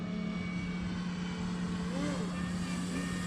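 An E-flite Carbon Z Cub SS giant-scale RC float plane flies overhead with a steady electric propeller drone and a slight rising whine partway through, with a constant hum and wind noise underneath.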